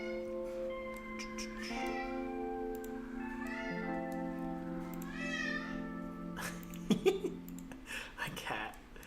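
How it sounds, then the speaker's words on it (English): A pet cat meows several times up close, long drawn-out rising and falling cries in a row, followed by a few brief clicks and knocks near the end. "My cat."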